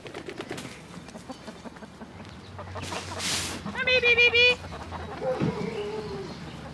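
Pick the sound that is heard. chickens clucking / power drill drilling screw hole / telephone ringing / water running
chickens clucking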